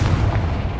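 Confringo blasting spell in Hogwarts Legacy goes off as a short, heavy boom with a deep, rumbling low end, close and loud.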